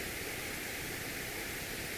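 Pink noise played as a sleep sound: a steady, even hiss with no breaks, softer and less sharp than white noise, heard alone.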